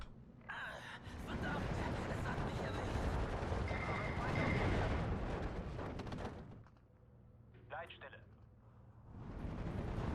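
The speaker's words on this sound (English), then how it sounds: "The artillery is landing directly on top of my Jagdpanzer" Artillery shells from Steel Division 2 crash onto a Jagdpanzer tank destroyer, a sustained roaring barrage of heavy booms that fades briefly and then returns, with a voice talking over it.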